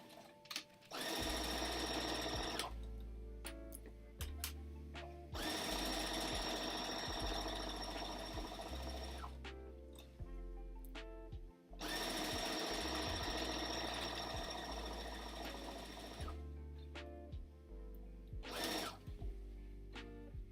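A sewing machine stitches a drawstring backpack in loud, fast, buzzing runs. Short pauses break the runs where the needle turns a corner, then the stitching starts again.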